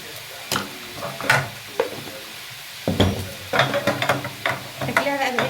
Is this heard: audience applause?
no